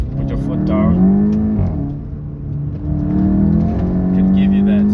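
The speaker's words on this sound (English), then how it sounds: "put the car into manual, drop a gear, drop another gear, put your foot down" Volkswagen Golf 7.5 GTI engine pulling hard after manual downshifts, a steady rising drone that carries throughout, close and loud, with someone talking over it.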